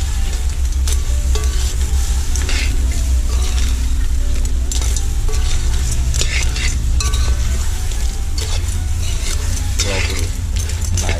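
Curry crab cooking in a pot, stirred steadily with sizzling and occasional clinks of utensil against metal, loud and continuous throughout with a low rumble underneath.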